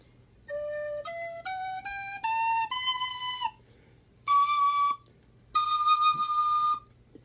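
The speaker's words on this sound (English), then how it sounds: "this is a high whistle, high D whistle" A high, bright high D tin whistle plays a rising run of single notes, then two longer sustained tones after a short pause, played solo.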